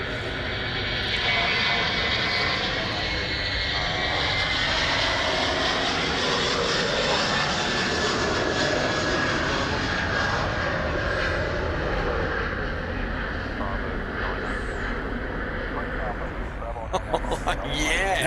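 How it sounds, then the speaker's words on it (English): Qantas Airbus A330 jet taking off from runway 34 left at Sydney Airport, a loud, steady engine roar that fills the whole stretch without letting up. "The Qantas A330 now rolling runway right."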